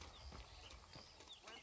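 Horse hooves clopping in Red Dead Redemption, a few soft irregular clip-clop steps, quiet and close, with faint background sound.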